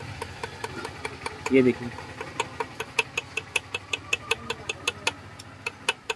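A Pulsar 150 motorcycle engine with a noisy, seized connecting rod knocks in a steady, sharp ticking rhythm, fairly close, while someone speaks briefly over it.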